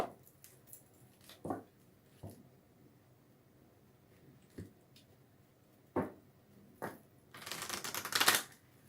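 Romance angel cards are shuffled by hand in a quiet room: scattered soft riffling taps and flicks, then a longer, louder burst of rapid card shuffling near the end, with no voice.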